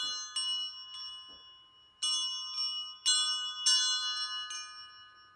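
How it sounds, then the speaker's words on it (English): A meditation chime rings out at the close of a yoga practice, struck about six times in an uneven rhythm, each bright metallic tone ringing and slowly decaying, close and clear with no talking. "we'll close our practice with the lovely sounds of the chime"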